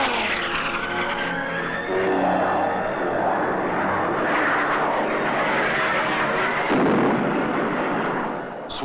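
Vietnam-war-era American and Vietnamese military planes sweep over the Dong Hoi area, a loud, continuous engine roar with rising and falling passes that fills the whole stretch, with no voices.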